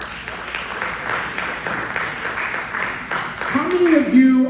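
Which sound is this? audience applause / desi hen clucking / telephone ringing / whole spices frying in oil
audience applause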